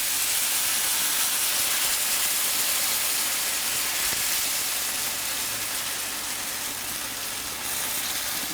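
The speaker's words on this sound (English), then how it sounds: "Now because the skillet is pretty hot, it's going to sizzle a little bit more." Onion soup mix and flour gravy liquid sizzling steadily in a hot skillet for a Salisbury steak, a loud, even hiss close up with no talking.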